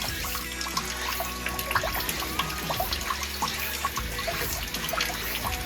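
Water poured from a ladle at a Japanese temple purification basin in Yasugi, a close, continuous trickling and splashing stream with dribbling drops into the stone basin, no talking.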